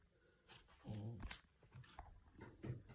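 A dog whimpers and whines in short bursts close by, with soft low grumbling between the cries.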